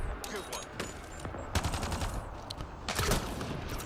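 Video game gunfire: repeated bursts of shots and rapid automatic fire crackle through a busy battle scene, with louder volleys near the middle and end and faint voices underneath.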